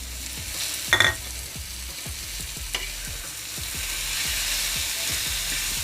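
Chopped boiled eggs are stirred into a hot frying pan with a spoon, a steady sizzle and crackle of frying with rhythmic scraping strokes and a couple of louder clinks against the pan, close and continuous without talk.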